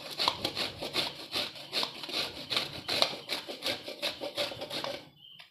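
Pieces of vegetable are rubbed by hand against a grater in a rural tin-roofed kitchen. The strokes make faint, quick, rhythmic scrapes at roughly three per second and stop abruptly at the end.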